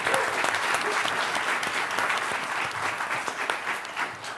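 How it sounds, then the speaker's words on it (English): Sustained audience applause at a startup demo day, a steady wash of many hands clapping for several seconds without a break. "Let's give him a round of applause."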